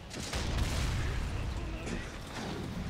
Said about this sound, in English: Cannon in the face.